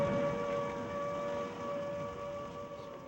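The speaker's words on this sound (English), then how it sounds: "The sirens, the panic rush, the fracas of the bombs." Air raid sirens wail during wartime bombing, a steady droning tone with faint overtones holding over a low rumbling background, distant and continuous without speech.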